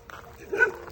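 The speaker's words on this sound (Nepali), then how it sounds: "कुकुर फेरि भुक्यो।" A dog gives a single short bark, faint and somewhat distant, in a quiet outdoor setting.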